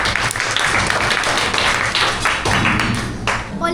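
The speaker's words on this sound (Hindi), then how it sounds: "जोरदार तालियां।" School students burst into loud applause, a dense, continuous clatter of many hands clapping close by, with a few voices mixed in.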